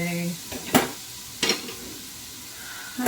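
A wooden spoon stirs goulash in a deep stock pot, making a few distinct scraping knocks spaced about a second apart over a quiet background with faint sizzling.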